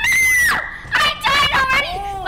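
High-pitched screaming from a Roblox game rings out in loud bursts, a long wavering shriek followed by further rising and falling cries.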